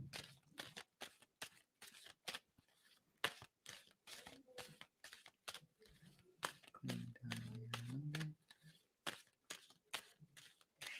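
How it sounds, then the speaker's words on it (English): Tarot cards being shuffled by hand, a run of quick crisp riffling clicks and flutters repeating steadily throughout, close and fairly quiet, with a brief low murmur of voice partway through. "And I'm going to stop shuffling."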